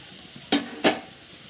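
A spoon stirring bitter gourd thoran with grated coconut in a pan, two quick close scraping strokes over a faint background sizzle.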